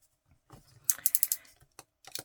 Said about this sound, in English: am cutting just a little sliver off the top of that fold